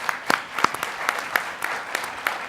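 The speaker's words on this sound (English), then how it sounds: "how about really recognize them with a big round of applause for the work they're doing?" An audience at a server roundup winners panel gives a brief round of applause, a moderate spread of claps with a few sharper individual hits standing out.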